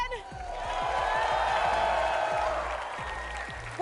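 Crowd at a Fortnite esports event in Copenhagen cheering and clapping in a big arena, a sustained roar of applause and whoops that swells and then eases, with a commentator's voice over it.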